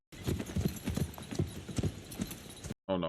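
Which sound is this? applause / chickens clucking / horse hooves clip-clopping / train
horse hooves clip-clopping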